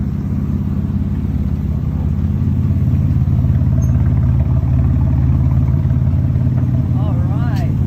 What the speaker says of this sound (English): this is a concept car that sounds like that